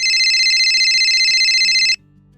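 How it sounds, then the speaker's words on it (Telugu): A mobile phone rings with a loud, close electronic ringtone, a bright pulsing tone that plays for about two seconds and then stops abruptly, leaving a quiet room. "ఏంటి నా కొడుకు ఫోన్కి ఫోన్ వస్తుంది?"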